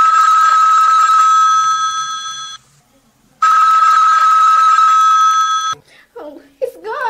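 An old landline telephone in a radio drama rings twice. Each long, loud, metallic bell burst is separated by a short silence, and a brief voice follows at the end.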